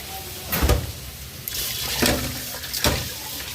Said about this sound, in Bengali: জি আম্মু, চালও ধুয়ে নিচ্ছি